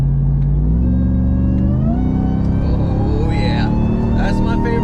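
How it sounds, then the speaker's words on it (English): A Ram TRX pickup truck engine revs up close and loud, a deep rumbling roar that climbs steadily in pitch over several seconds without letting off. "So how about we get this truck to scream real quick."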